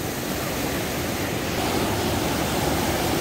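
Swollen, flooded Torola river rushing past in a loud, continuous broadband roar, close by and steady, with no voices.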